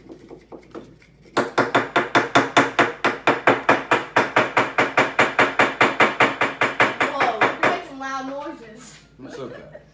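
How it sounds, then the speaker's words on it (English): A rapid run of about thirty sharp metal-on-stone hammer strikes on a chisel into rock while mining for gems, evenly paced and close, followed by laughter and voices. "Just hammer it down."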